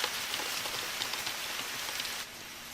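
Steady rain pours down in an animated Japanese film, a dense even hiss of drops on surfaces filling the scene with no voices, then easing a little toward the end.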